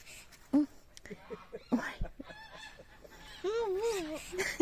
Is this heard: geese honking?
yes